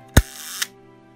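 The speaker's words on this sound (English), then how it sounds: "the shutter opens, release, and it closes." An old Voigtlander Bergheil camera shutter fires at a half-second setting: a sharp close click as it opens, then a second, softer click about half a second later as it closes, in a quiet room.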